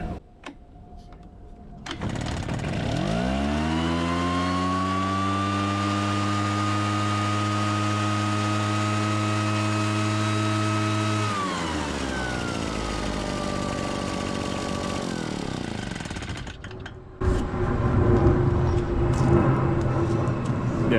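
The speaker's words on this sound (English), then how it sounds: "I gave one initial pull, pushed the choke in, pulled the start cord, started right up" A small pull-start engine catches after a cord pull and runs steadily at a fast idle for several seconds, loud and close, then its pitch drops and it settles into a rougher, lower run.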